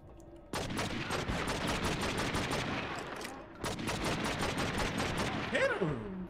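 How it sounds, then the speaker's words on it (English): Rapid automatic gunfire in the video game True Crime New York rattles in dense sustained bursts with a short pause, loud and close, with a voice briefly audible near the end. "That's them automatics, bro."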